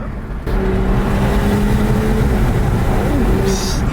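A 900hp BMW M5 Competition pulls hard under a loud, steady engine roar heard from close range. A rising whine sustains for a few seconds and then eases off.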